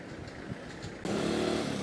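A motorbike runs along a narrow, crowded street in Thailand, its engine note jumping to a louder, steadier drone halfway through as it draws close.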